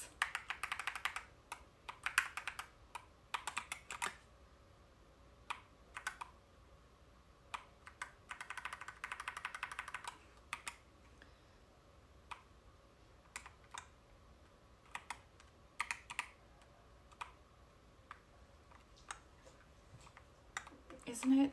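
Typing on a Coolkiller CK75 transparent mechanical keyboard: bursts of crisp clacking keystrokes separated by pauses and scattered single presses, close and moderately quiet.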